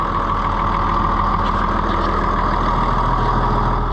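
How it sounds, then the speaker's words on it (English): A German diesel engine running steadily at idle nearby, a loud continuous low rumble with an even throbbing pulse and no voices over it. "Oh, listen to that German diesel power."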